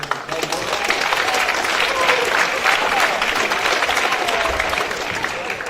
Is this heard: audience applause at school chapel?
yes